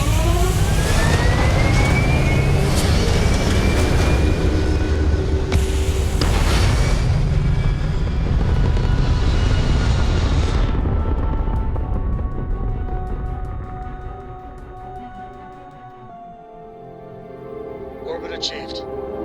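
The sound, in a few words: spaceship thrusters firing at launch, Starfield video game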